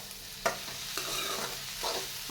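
Masala okra (bhindi) with green chillies and red chilli powder being stirred in a hot pan, with a steady sizzle broken by four or five distinct scraping strokes of the spoon, close and alone without talk.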